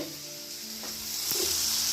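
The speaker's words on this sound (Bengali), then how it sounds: "এটা ভাজা হবে" Food fries in a hot pan in a home kitchen, a steady soft sizzle running throughout with faint stirring scrapes, fairly quiet and growing a little louder toward the end.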